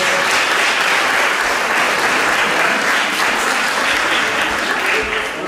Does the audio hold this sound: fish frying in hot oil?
no